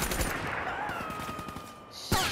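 Rapid automatic gunfire rattles in a steady stream in Call of Duty Black Ops III combat, moderately close, ending in a sharper burst.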